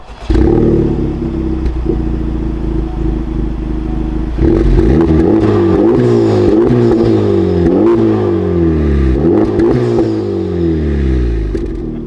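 A Honda Civic Type-R with an aftermarket full exhaust idles with a steady low burble, then revs sharply several times in a row, each blip rising and falling, loud and close.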